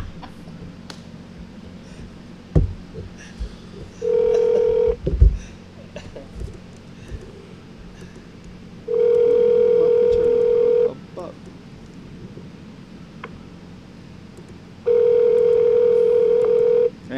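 Dialing and ringing on a telephone line during a call-in radio racing show. Three steady ringback tones sound in bursts about two seconds long, separated by pauses, with faint room noise and scattered clicks between them.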